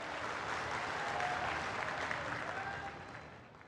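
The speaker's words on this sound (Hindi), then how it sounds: "एक बार जोरदार ताली बजाकर माननीय प्रधानमंत्री जी का स्वागत करें।" A large crowd at a tribal assembly rally claps loudly to welcome India's Prime Minister, a dense sustained roar of applause that holds steady and then tapers slightly at the end.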